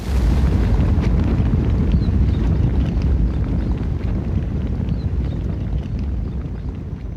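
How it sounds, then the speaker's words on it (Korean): Deep, rumbling roar of a kitchen gas explosion staged in a disaster response drill, a dense continuous blast-like wash that stays loud throughout and fades slightly toward the end. "조리실 가스 폭발로 1층으로 이어지는 대피 계단 일부가 붕괴되어 아래로 내려갈 수 없는 상황이 되자"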